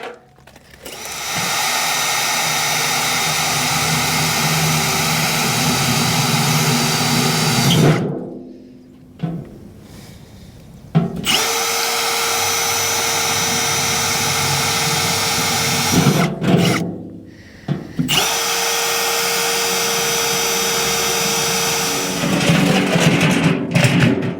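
A power drill drilling drainage holes in a plant pot runs in three long bursts separated by short pauses, loud and close, each run a steady high whine.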